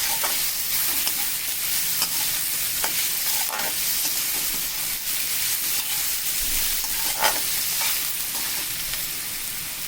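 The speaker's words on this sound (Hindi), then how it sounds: "अब इसमें हम डालेंगे बंद गोभी, ताकि ये भी ज़्यादा सॉफ्ट ना हो।" Cabbage being stir-fried for fried rice, with a steady loud sizzle and frying hiss broken by scrapes and clacks of stirring in the pan, no voices over it.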